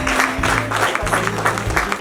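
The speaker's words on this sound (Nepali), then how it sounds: "मजाले ताली।" Guests clap at a Nepali Christian church wedding, a busy, moderately loud patter of applause that pulses in rough waves over a steady low droning tone, with faint voices underneath.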